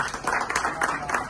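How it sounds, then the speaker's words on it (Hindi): An audience claps in welcome for a guest on stage at a formal ceremony, a short burst of crowd applause with fluttering rhythm, heard alongside speech. "जोरदार तालियों से स्वागत अभिनंदन करेंगे पूर्व केंद्रीय मंत्री शाहनवाज हुसैन जी का।"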